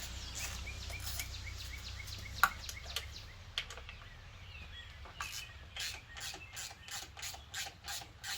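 A ratchet wrench removes 5 mm fender bolts on a Yamaha MT-07 motorcycle, with a few scattered clicks at first and then a rapid, steady run of close ratcheting clicks.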